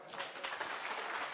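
Studio audience applause on a French TV talk show, a steady dense wash of clapping filling the whole moment at moderate distance with no clear break.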